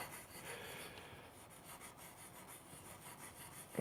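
A soft-grit sanding stick rubbed back and forth over a casting line on a 1/35 scale plastic tank hull, giving a steady close-up rasping scrape with faint rhythmic strokes and no talk.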